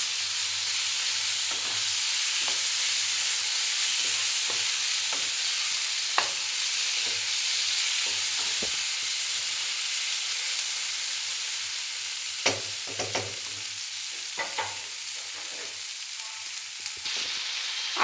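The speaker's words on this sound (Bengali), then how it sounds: "সেই আলুগুলো মশলার ভিতরে দিয়ে এবার আলুগুলো দিয়েও খুব ভালোভাবে মশলাটা কিন্তু কষিয়ে নেব" Fried potatoes stirred into spice paste in a pan for a pangas fish curry with potato, a steady close sizzle running throughout with scattered scraping and clinking from the spoon, the scrapes getting busier toward the end and no talk.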